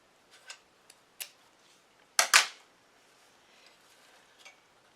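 Scissors trimming ribbon for a bow, with a few sharp, quiet snips spread out and one louder double cut in the middle, all close and otherwise quiet.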